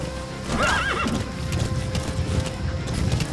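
A horse in a video game whinnies once, then gallops with steady, rapid clip-clop hoofbeats, loud and close, under a faint wash of game ambience.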